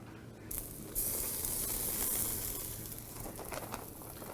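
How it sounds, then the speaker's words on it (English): Ribeye steaks hitting a very hot grill at around 700 degrees, a sudden sharp sizzle that flares up then settles into a steady hiss. "throw these on, get these seared"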